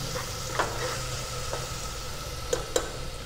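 Onions frying in a pan, a soft, fairly faint steady sizzle with a few sharp stirring clinks and scrapes scattered through.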